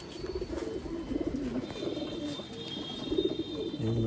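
Old line pigeons kept for sale in Bangalore coo in low, throaty rolling phrases, several birds overlapping in a steady close chorus with faint background noise.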